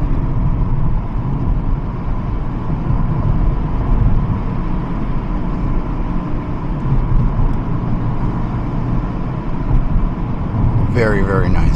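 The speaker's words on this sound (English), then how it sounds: "Hear the intake noises." Heard from inside, a Hyundai Elantra N fitted with a catalyst downpipe gives a constant, loud, low engine and intake rumble while someone talks over it almost throughout.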